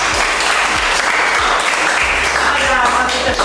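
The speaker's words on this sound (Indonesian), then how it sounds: "kita berikan tepuk tangan dulu untuk kita semua" A classroom of students clapping together in unison, loud and continuous throughout with a few faint voices mixed in.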